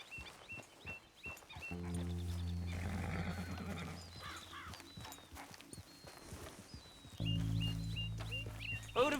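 Horses in the Red Dead Redemption 2 video game whinny loudly several times over steady clip-clopping hooves, with ambient game sounds and brief bursts of speech around them.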